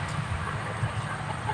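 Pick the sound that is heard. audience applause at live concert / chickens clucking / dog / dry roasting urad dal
chickens clucking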